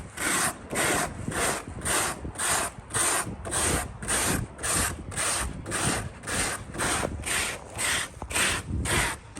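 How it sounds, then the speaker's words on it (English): A wire brush scrapes old foam off a restoration project for an LS3 Colorado in steady, rhythmic back-and-forth strokes, loud and close, with about twenty even passes and no talking. "we'll go around and scrape some of this foam off with a wire brush and get most of it off"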